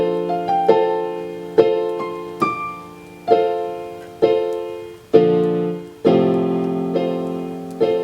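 Piano chords for a song ring out alone, close and loud, with a slow steady progression of sustained chords that each decay before the next is struck.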